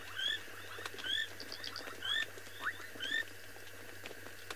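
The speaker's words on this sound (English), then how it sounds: "sounds like we've got a grass frog of some description calling around here" A grass frog calls outdoors in East Africa, short chirping notes repeated roughly once a second amid a chorus of other frogs and insects.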